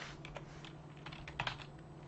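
Code being typed on a computer keyboard, a quiet run of soft, irregular key clicks with a couple of slightly sharper taps near the end over a low hum.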